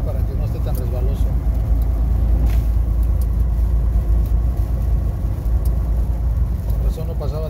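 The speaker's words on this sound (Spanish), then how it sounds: "Con razón no pasaba tráfico, ahí trae todo el tráfico la barredora." A street sweeper truck rolls past amid traffic, a steady loud engine rumble and road noise filling the whole stretch while people talk over it.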